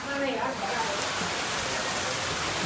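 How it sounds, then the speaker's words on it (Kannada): Dense, continuous rain hisses loudly and evenly, about five minutes into a downpour, with a faint voice briefly audible at the start. "ಜಸ್ಟ್ ಮಳೆ ಸ್ಟಾರ್ಟ್ ಆಗಿ ಬರೀ 5 ನಿಮಿಷ ಆಗ್ಯದ."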